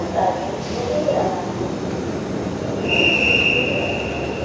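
A Dhaka metro rail train hums and rumbles steadily at a platform, with a thin high-pitched wheel whine rising near the end and faint voices underneath.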